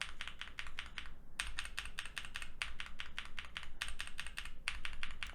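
Quick, muted keystrokes clatter in bursts on a mechanical keyboard with lubed and filmed tactile switches, soft and rounded, with brief pauses between runs of typing, recorded up close.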